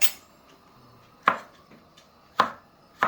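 A knife cuts firm, dense lobster mushrooms on a board, with four sharp, separate chops spaced about a second apart, close and clear against a quiet background.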